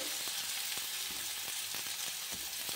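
Steady sizzling of garlic and onion frying in a hot pan, with occasional scraping stirs, close and continuous with no voices.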